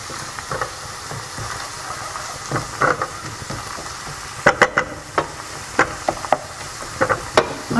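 Ginger and garlic sizzle softly in a pan for Singapore noodles, a faint continuous hiss broken by a series of sharp scraping clicks as the pan is stirred, more frequent toward the end.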